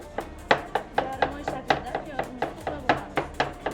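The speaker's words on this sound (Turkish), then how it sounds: "Soğanı böyle ortasından bölüyoruz." Knife striking a cutting board in a fast, even rhythm, about fourteen crisp close chops as an onion is halved and sliced into crescents for lole kebab in Samarkand.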